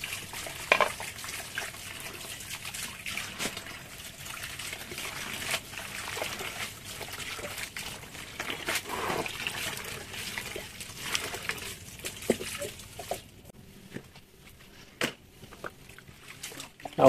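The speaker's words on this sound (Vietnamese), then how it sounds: "Xong cái xả nước ra mình rửa" Water trickles and drains away during washing outdoors, a continuous low dribbling and splashing stream with scattered small splatters, fairly quiet and steady, easing off near the end.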